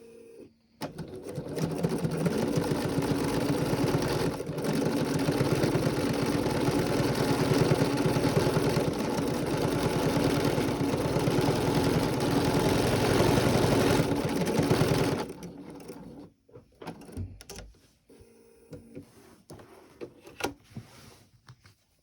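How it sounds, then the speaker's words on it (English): A sewing machine stitches the last seam of a quilt binding, running steadily and close for about fifteen seconds before it stops and faint handling noises follow. "And now I can finish sewing this last seam."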